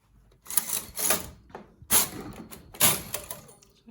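A knitting machine carriage runs across the bed on the first row at tension 10, making several quick mechanical sliding and clattering strokes in short bursts, fairly quiet and close.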